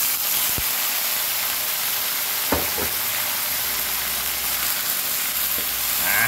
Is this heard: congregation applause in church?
no